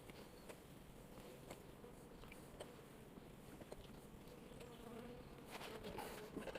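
A colony of bees in a beehive makes a steady, faint, dense buzzing hum that continues throughout, with no one speaking.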